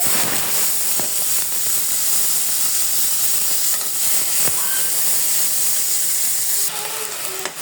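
Potatoes tipped into a pan of frying cumin spice mix for noodles give off a loud, steady, close sizzle that hisses continuously, with a brief shift in tone near the end.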